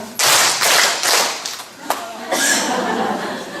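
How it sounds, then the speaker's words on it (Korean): A church congregation breaks into loud, close applause after a homily, the clapping swelling in uneven waves before tapering off. "자, 이제 박수를 한번 시작."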